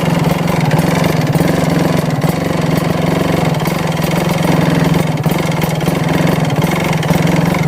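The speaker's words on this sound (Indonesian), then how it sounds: "Sekarang perhatiin bunyinya, dengerin bunyinya. Nah itu dia langsamnya nggak enak." A Kawasaki Ninja motorcycle engine idles roughly with an HSAS fault, a close, loud, continuous low rumble with a slightly uneven pulsing beat and no talking.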